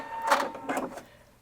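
A Husqvarna Viking Brilliance 75Q sewing machine runs its automatic thread snipping, giving two quick whirring mechanical bursts in close succession, near and moderately loud.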